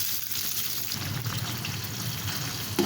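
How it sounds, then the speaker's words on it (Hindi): Sliced onions sizzle in about a cup of hot oil, a steady close frying hiss with faint crackles, continuous and without talk. "अब ये प्याज में गोल्डन ब्राउन करूँगी।"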